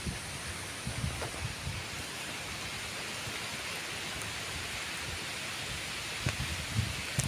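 Typhoon Pepito brings steady, dense rain over a farming village in Nueva Ecija, Philippines, a loud unbroken hiss with gusting wind and occasional heavier patters throughout.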